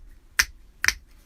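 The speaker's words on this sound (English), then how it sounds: "you actually hear both finger snaps" Two finger snaps a half second apart, deliberately slightly out of sync, each a crisp sharp crack standing alone against a quiet room.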